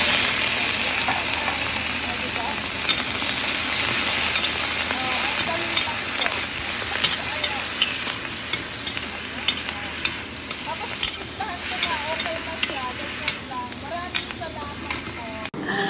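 Vegetables fry in a hot pan, a loud continuous sizzle with scraping and clinking as they are stirred, close up throughout with faint talk in the background.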